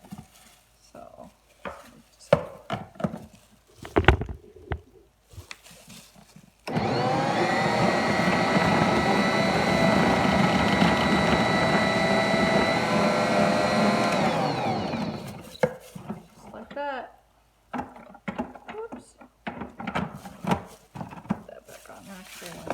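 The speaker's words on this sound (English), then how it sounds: "I have a slicer attachment onto it so it slices for me." A food processor with a slicer attachment cuts jalapeños, a loud steady motor whir with chopping rattle lasting several seconds, set between bursts of kitchen clatter and talking.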